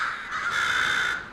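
Crows cawing in Portland, a dense, continuous chorus of harsh overlapping calls from many birds, fairly loud and steady throughout with no talk.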